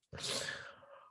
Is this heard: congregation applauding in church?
no